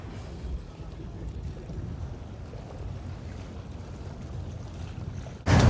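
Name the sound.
wind blowing in a harbour on Crete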